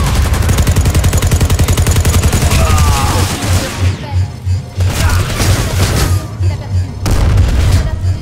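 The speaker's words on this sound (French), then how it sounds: "Grenade !" A grenade blast amid a Planetside 2 battle, with loud booming explosions and continuous gunfire filling the scene, the din easing briefly before heavy blasts resume; a voice speaks over the combat.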